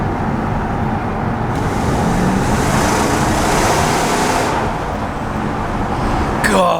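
A 1998 BMW 735i with a 3.5 litre V8 rumbles steadily, its engine note swelling and then easing back in a smooth, close, continuous drone.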